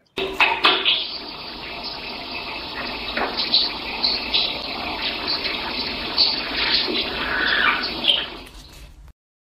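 Water runs steadily from a tap in a played-back recording, a continuous rushing gush with a few clicks at the start that keeps going several seconds before cutting off abruptly.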